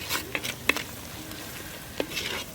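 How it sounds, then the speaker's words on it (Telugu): Mutton curry frying in a pan for a village-style dish, a low steady sizzle with a few sharp scrapes and clinks of a stirring spoon against the pan, close and fairly quiet, no talking. "ఇది ఇంకా ఎంతసేపు వేగాలి ఇది మౌని?"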